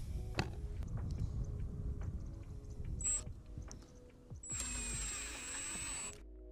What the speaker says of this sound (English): use the provided screws that come with it as well as our trusty drill to drill it in